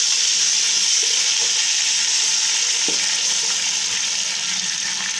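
Loud, continuous sizzling hiss as a little water is added to frying ginger-garlic paste in a hot pan, steady throughout with faint clinks underneath.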